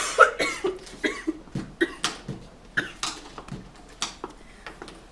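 A person coughs repeatedly at close range, with a rapid series of sharp, hacking bursts spaced almost evenly and no break.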